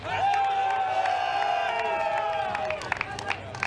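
Crowd at a Super Smash Bros. Melee tournament cheering and whooping in a big hall, a sustained roar with scattered claps and yells, fairly loud throughout.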